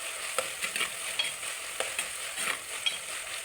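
Curry ingredients, tomatoes among them, sauté in oil for a Kannanayala fish curry, a steady soft sizzle broken by brief scraping stir strokes, close and moderately quiet with no talk.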